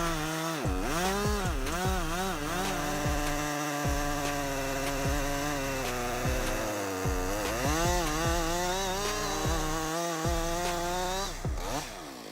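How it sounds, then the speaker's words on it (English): A Husqvarna 562 chainsaw with a 20-inch bar cuts wood while felling a tree, its engine revving up and down repeatedly in loud, close, continuous buzzing. "Let's take a close look at the wood cutting process of the Husqvarna 562"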